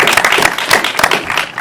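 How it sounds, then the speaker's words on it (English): Audience applause at a Galaxy's Edge fan celebration event, dense steady clapping from a crowd that holds loud and even throughout the short stretch. "Round of applause putting this together."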